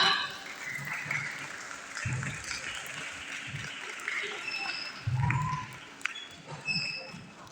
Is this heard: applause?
yes